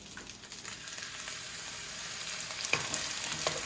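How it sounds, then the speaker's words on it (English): A tablespoon of water hits fried rice with chicken and shrimp in a hot wok, giving a continuous close sizzle and hiss with a few sharper pops of stirring. "just a little bit, maybe a tablespoon, not more than that, and just add on to your wok"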